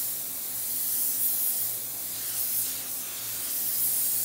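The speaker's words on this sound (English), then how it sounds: "This is actually a really good project to learn how to spray candy base coats." A spray gun lays down candy base coat paint in a steady, loud, continuous hiss at close range. The hiss rises and falls slightly with each pass, over a low hum in the background.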